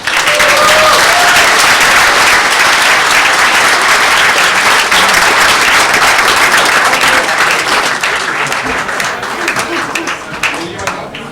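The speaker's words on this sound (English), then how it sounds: "Let's give him a round of applause" A crowd at a city council meeting breaks into loud, sustained applause, dense rapid clapping that fills the room for several seconds before slowly thinning out toward the end.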